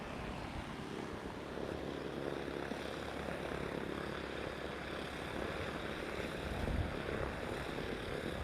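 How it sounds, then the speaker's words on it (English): Propeller airplane taxiing at San Carlos airport, heard as a steady droning engine and propeller hum, fairly close, with no talk over it. "you can see the propeller moving in the front"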